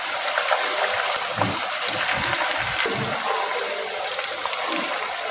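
Potato pakora fritters sizzle in hot frying oil, a steady close hiss with bubbling crackle holding at an even level throughout, no voice.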